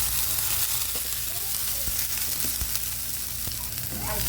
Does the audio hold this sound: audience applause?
no